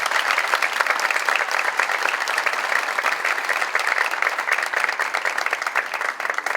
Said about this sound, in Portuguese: Palmas para todos os presentes